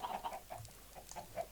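Minecraft chickens in a coop clucking, several short soft clucks in an irregular rhythm, quiet and fairly close, with no talk over them.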